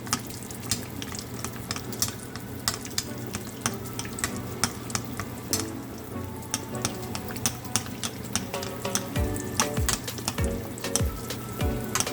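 Dough frying in very hot oil, a dense, continuous sizzle with sharp crackles and pops scattered throughout, close and loud, with occasional bubbling bursts toward the end.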